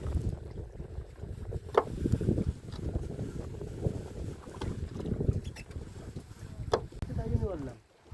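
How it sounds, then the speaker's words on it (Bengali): Strong wind buffets a small fishing boat in the middle of the Sundarban river at night, a rough, rumbling gusty roar with flapping and creaking, close and continuous, easing off at the very end. "হঠাৎ করে কিন্তু বন্ধুরা প্রচণ্ড হাওয়া ছেড়ে দিয়েছে"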